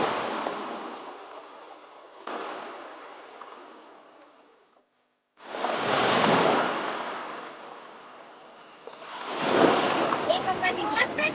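Ocean surf washes onto a beach where a lake meets the sea, with broad roaring waves that rise and fade in long surges, loud and close, with some wind buffeting the microphone.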